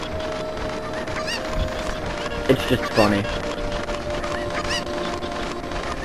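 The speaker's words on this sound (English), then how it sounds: "here's the last chicken." Cucco chickens cluck and squawk in Ocarina of Time, a short burst of bird calls near the middle amid steady game background sound, with a person talking over it.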